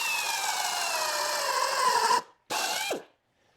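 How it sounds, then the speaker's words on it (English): A power drill bores a hole into wood to seat a plug, whining steadily and close for about two seconds, cutting out, then giving one more short burst that winds down as the bit stops. "we're going to drill a hole and create the bore as well for the actual plug"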